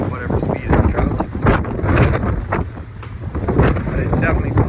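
Strong wind buffets the microphone on the open deck of a moving BC Ferries ship in the Inside Passage, a loud steady roar with gusty swells and engine rumble beneath.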